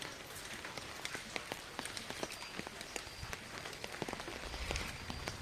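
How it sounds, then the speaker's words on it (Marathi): Light drizzle patters steadily near a weather station, with scattered crisp drops tapping nearby surfaces and a soft continuous hiss. "रिमझिम स्वरूपाचा पाऊस चालू आहे आपण बघू शकता"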